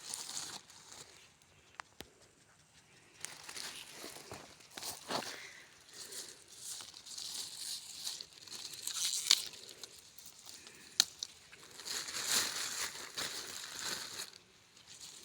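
Picked peppers go into a thin plastic bag, making quiet, intermittent crinkling and rustling with a few sharp crackles and pauses between handfuls, close by and with no talking.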